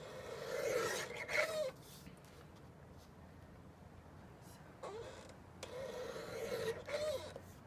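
Paper trimmer slicing cream cardstock along dotted lines, heard as faint rasping cuts in two short passes separated by a quiet stretch.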